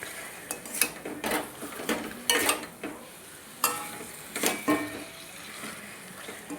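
Chicken is sautéed in a pan with garam masala, Kashmiri chili, hot chili and salt for biryani. A spoon scrapes and clinks against the pan in irregular strokes over a soft sizzle, and no one speaks.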